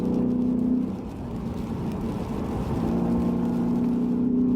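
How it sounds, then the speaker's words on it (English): A Lexus RC F's naturally aspirated V8 holds a steady, smooth drone with clear harmonic tones while cruising on country roads, dipping briefly in pitch before climbing again. "The car sounds good. It's a V8 engine, normally aspirated"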